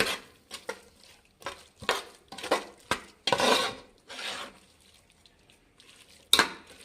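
A spatula scrapes masala for fenugreek rice (menthya bath) around a frying pan in a run of short, rhythmic rasping strokes, close and moderately loud, ending with a sharper metallic clank, with no talking.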